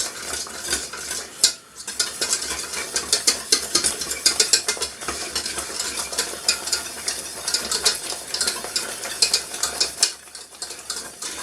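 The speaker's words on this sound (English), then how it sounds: "I'm stirring and it's getting so thick that I can actually see the bottom of the pan where I've stirred" Thick caramel stirred in a pan with a utensil, a steady run of close scraping and sticky stirring strokes, with a brief pause partway through and no talking.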